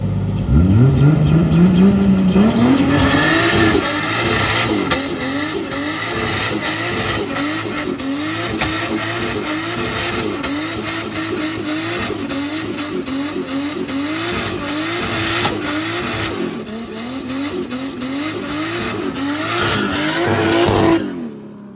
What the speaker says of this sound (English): that's a burnout, I'll tell you what.